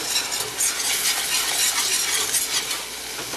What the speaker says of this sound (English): add the milk and whisk it a little further